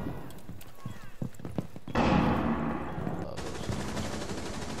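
Gunfire in Rainbow Six Siege rings out as a series of sharp, close shots, followed by a loud sustained burst of rapid fire and noisy clatter, with people talking over it.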